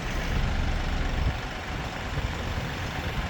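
A Kioti DK5320 tractor with rear tires filled idles steadily while lifting a pallet of net wrap, a close, even diesel rumble with no revving and no voices.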